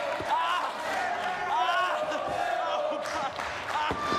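A loud wrestling arena crowd roars and shouts continuously, with several swells of cheering and a few sharp bangs or slams cutting through the steady noise.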